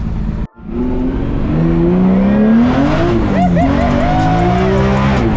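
A 2JZ-swapped Datsun Prairie drift minivan roars loudly at close range, its engine revving and rising in pitch with tire squeal, while voices speak under the noise.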